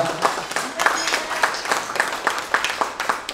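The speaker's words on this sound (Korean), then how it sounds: "정의당의 응원의 박수 뜨겁게 부탁드립니다" An audience at a newspaper's 22nd anniversary ceremony claps in a rhythmic, unison beat, evenly spaced loud claps repeating at a steady pace throughout.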